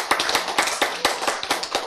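Scattered, thin clapping from a small audience, a handful of distinct hand claps spread unevenly across a short stretch, fairly faint and without any voices.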